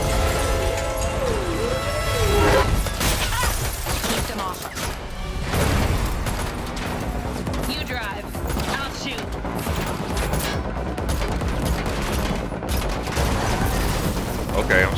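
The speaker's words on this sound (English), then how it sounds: "Okay, I'm shooting." Rapid bursts of gunfire ring out in The Matrix Awakens Unreal Engine 5 demo on PS5, shooting at car tires during a chase amid crashes and engine roar, loud and nearly continuous, with game dialogue and music underneath.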